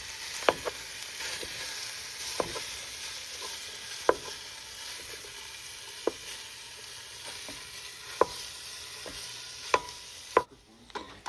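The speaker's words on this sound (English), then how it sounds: "we're going to allow you to listen to some sizzle before the commentary continues." Ground beef browning in a pan for chili, a steady close sizzle and crackle running throughout with sharp spatter pops every second or two, heard alone without talk.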